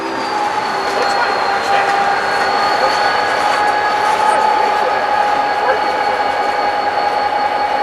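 A pair of Jeep switcher locomotives pull intermodal cars up into the hump at Inman Yard, a steady rolling rumble with wheel noise and faint squeal, at moderate distance, with voices talking over it.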